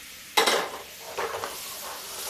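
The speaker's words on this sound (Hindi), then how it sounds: "अब इसमें हम डाल देंगे दलिया" Broken wheat dalia tipped into cooked dal in a pan, a soft rushing pour followed by a pause and then a few scraping stirs, moderately close and fairly quiet.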